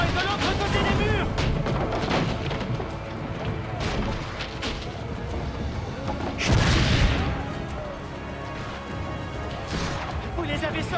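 Cannon fire during a siege in the video game Assassin's Creed Brotherhood, several heavy booms and crashes, one especially loud near the middle, over battle noise with people speaking throughout.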